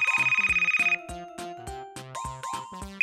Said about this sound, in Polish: Telefon?